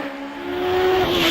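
A 1300cc hill climb race car launches off the line at Prescott, its engine note rising steadily in pitch and growing louder as it pulls away close by, with no voices.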